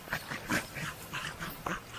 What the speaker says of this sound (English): She's an alligator Chinaman cross. Very nice dog.